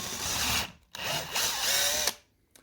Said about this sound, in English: I'm just going to drill that out.